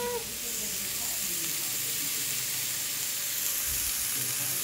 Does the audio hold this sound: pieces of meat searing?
yes